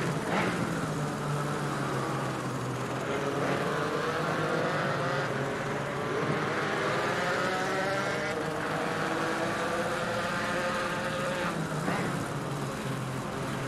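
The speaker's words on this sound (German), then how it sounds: "Einfach mal Motorsound on board." Porsche Cayman GT4 racing engine in Assetto Corsa Competizione, an onboard sim-racing drone that rises and falls continuously through gear shifts and revs, loud and steady throughout with no talk.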